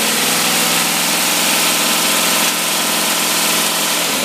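A carbureted engine fitted with a Holley 4412 two-barrel carburetor idles at a steady, loud, even drone with a dense mechanical rumble, heard close and with no talking.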